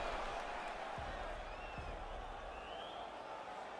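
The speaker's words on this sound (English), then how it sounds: "the crowd voicing its appreciation after that round" A UFC arena crowd cheers and roars after a round of a fight with a knockdown, a broad sustained wash of distant crowd noise with a couple of thumps.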